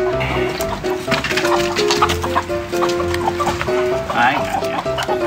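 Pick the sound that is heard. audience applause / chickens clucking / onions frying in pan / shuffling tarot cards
chickens clucking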